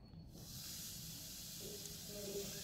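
Eno fruit salt fizzes with a steady, soft hiss as a little water is added before mixing it into idli batter, heard close and alone for a few seconds.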